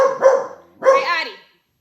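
A pet dog gives two close, loud barks with a short gap between, the second drawn out into a yelping whine, indoors during a live stream.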